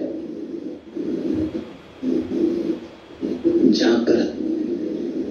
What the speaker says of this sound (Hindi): पक्षियों की आवाज सुनाई पड़ने लगती।